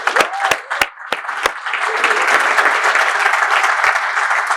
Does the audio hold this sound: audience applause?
yes